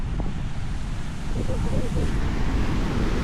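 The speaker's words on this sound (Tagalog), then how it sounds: "tapos malalaki yung alon" Steady roar of large surf waves breaking at Dahican Beach, Mati, Davao Oriental, Philippines, mixed with strong wind buffeting the microphone.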